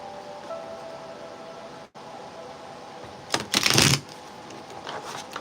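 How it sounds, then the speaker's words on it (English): A thick tarot deck riffled once in a quick burst of dense, crisp flutter, close and fairly loud, with quiet room noise before and after. "Let me shuffle these this way because they are such a thick deck"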